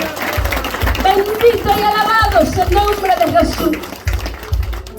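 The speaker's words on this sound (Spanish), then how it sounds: "Dale fuerte tus palmas, aleluya." Members of a church congregation clap their hands in a steady beat beneath a loud, emotional sermon-style voice that speaks throughout.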